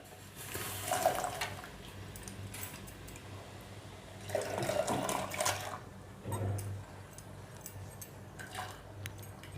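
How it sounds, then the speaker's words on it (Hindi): Boiled water poured into dal in a pot for Puri temple dalma, in several separate splashing gushes with short quieter gaps between them and faint clinks of utensils. "मैंने 4 कप पानी लिया है और मैंने उसको उबाल लिया है। अब हम उसमें डाल देंगे।"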